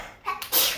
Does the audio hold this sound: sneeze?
yes